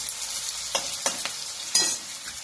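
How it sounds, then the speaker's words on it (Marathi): Tomatoes fry over high heat in a pan under a constant hiss, while a spoon stirs and scrapes through them in a few sharp, separate strokes, close up and with no voices. "टोमॅटो 5 मिनिटं भाजायचे चांगले, गॅस मोठाच ठेवा म्हणजे लवकर लवकर भाजतं।"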